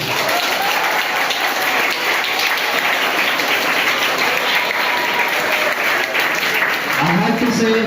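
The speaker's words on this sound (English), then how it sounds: "kindly clap everyone" An audience at a school competition of singing, poster drawing and essay writing claps loudly and continuously, a dense, even wash of applause lasting the whole stretch.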